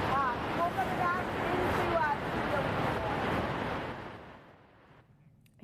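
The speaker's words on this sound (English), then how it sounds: "really difficult actually to hear you just because of how loud the raging rivers are" A raging, flood-swollen Vermont river roars loudly as a broad, steady rush of water with wind buffeting, voices faintly beneath it, before the noise cuts away near the end.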